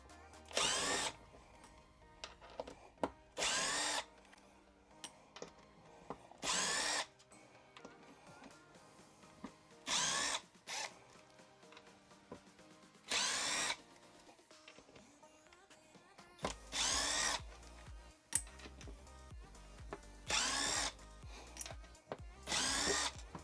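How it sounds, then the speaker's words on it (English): A power driver whirs in short repeated bursts while screws come out of an RC car's radio tray, loud and close with quiet pauses and small clicks of parts between runs. "after removing all the screws, we got our radio tray out"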